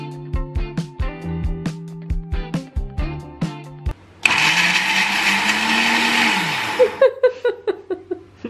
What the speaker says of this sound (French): On va mixer nous les fruits.